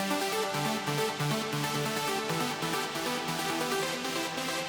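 Two layered synthesizer patches, one giving a thick saw-type body and the other a plucky attack, form a dense, continuous synth texture with rapid rhythmic pulses and stepping melodic notes at a steady level.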